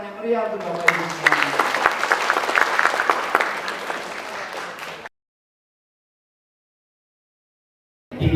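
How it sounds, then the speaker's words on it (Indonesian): An audience at a BKKBN East Java gathering gives lively applause, dense clapping mixed with a voice and crowd noise for about five seconds before cutting to silence. "Boleh berikan tepuk tangan yang meriah untuk Bapak Ibu semua."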